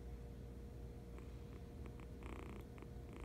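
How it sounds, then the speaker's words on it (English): A sleeping cat purrs softly and steadily up close, a faint continuous rumble in a quiet room with no talking. "Oh, he's purring now."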